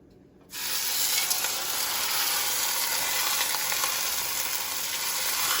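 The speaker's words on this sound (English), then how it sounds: "When you hear that sizzle, it's flavor." Chunks of beef drop into hot olive oil in a pot for pot roast, setting off a sudden, steady sizzle that holds loud and even after a brief quiet start.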